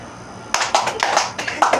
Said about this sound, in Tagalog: Alright, palakpak.